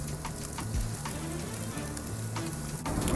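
Rib eye steak sizzles steadily on a cheap $20 Amazon grill, a dense, continuous crackle with scattered louder pops, close and fairly loud throughout.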